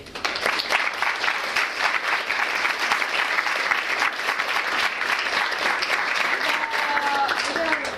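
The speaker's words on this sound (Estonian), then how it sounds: "Aga teeme siis veel kord ühe suure aplausi." A large audience at a science café talk applauds steadily and loudly throughout, a dense continuous wash of clapping with no break.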